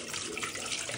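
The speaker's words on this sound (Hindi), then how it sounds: "पहले पानी गिरो थोड़ा।" Water pours steadily into a cooking pot in a home kitchen, giving a brief, continuous, splashing rush close by with no talk over it.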